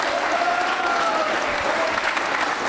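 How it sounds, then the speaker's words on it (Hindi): An audience at an Independence Day quiz show with NCC cadets claps to honor a guest, a steady, even wash of applause that lasts throughout. "उनके सम्मान में तालियां बजाइए जोरों से आप"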